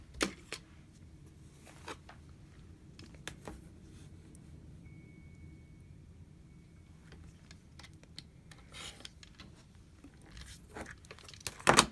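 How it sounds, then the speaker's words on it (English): Fabric selvage is cut off for a quilt with a series of quiet, scattered snips and crisp crunching cuts, separated by short gaps over a low room hum, with no talking. "Need to cut off the selvage here."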